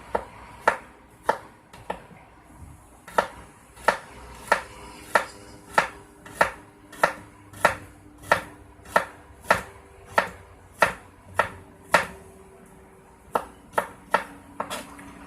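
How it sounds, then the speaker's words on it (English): A knife thinly slices peeled garlic on a chopping board in a steady run of about twenty crisp, evenly spaced taps, close and clear, with no voices. "we're going to take that garlic, we're going to just thinly slice it"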